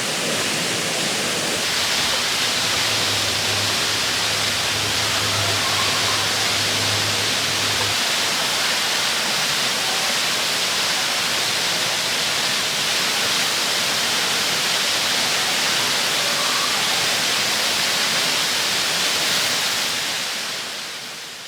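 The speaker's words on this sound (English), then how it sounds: "actually went to the top of that waterfall there, just to be like on top of the waterfall" Waterfall roars as a continuous broadband rush of falling water, loud and close, holding steady throughout with a faint low hum near the start and no voices.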